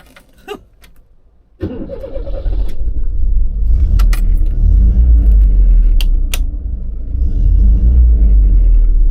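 Keys jingle and click in the ignition of a Morris Marina Estate with a 1800 B-series engine, then the engine cranks and catches, settling into a loud, steady idle rumble with a few sharp clicks.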